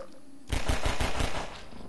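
A loud, rapid burst of gunfire in Half-Life 2, about five or six close shots in quick succession that trail off into a fading tail.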